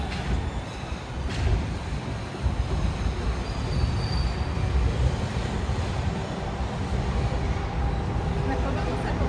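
A Disneyland Mickey & Friends and Pixar Pals tram rolls along with a steady, close rumble of wheels and wind noise, while voices talk over it throughout.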